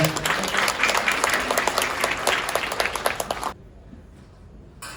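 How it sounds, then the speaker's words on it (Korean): Guests at a wedding ceremony in a hall applaud loudly and steadily for about three and a half seconds, then the clapping cuts off abruptly into near silence. "다시 한번 큰 박수 부탁드리겠습니다"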